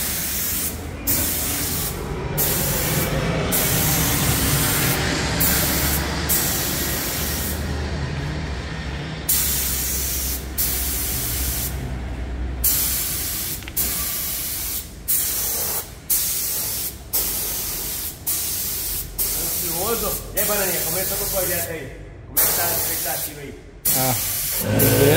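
A Lada car is spray painted with a noisy air compressor, giving repeated bursts of sharp spray-gun hiss broken by short pauses over a constant compressor drone; no voices break in.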